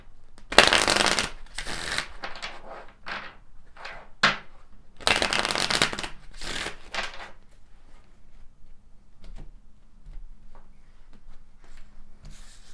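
Tarot cards are shuffled by hand at close range in a series of quick riffling bursts and soft slaps, with quieter handling sounds between them and no speech.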